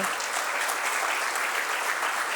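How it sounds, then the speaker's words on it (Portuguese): Dense, steady audience applause at a commemorative session of the Barreiro associative movement, honouring a professor: a full room clapping continuously at an even level, slightly distant and without breaks. "Quero uma salva de palmas, se faz favor, para ele."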